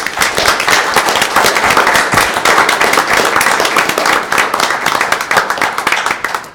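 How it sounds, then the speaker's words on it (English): Dense, loud applause fills a city council meeting room, steady rapid clapping from the audience continuing without pause throughout. "please join me in giving them a round of applause."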